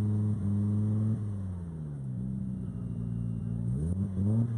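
The Paintbox Racing Team race car at an Easter car meet driving past, a steady engine drone that shifts pitch as it accelerates and revs, moderately distant, with faint voices in the background.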